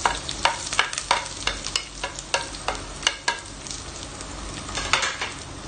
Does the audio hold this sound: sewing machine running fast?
no